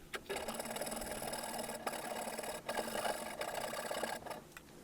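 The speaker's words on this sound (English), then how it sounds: "cut it out. I like to use a handsaw because I can be very precise with it" A handsaw cuts a wooden tenon in steady back-and-forth strokes, a close, rasping sawing sound with short pauses between bursts.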